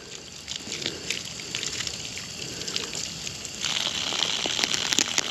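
Water is poured over a removable first aid bag from KEMIMOTO upper door bags on a Polaris Turbo S, making a soft, steady splashing and trickling that grows louder partway through.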